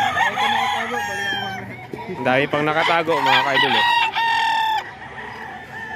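Roosters at a Filipino gamefowl breeder's yard crow loudly and repeatedly, several drawn-out calls overlapping close by, with a voice talking briefly between them.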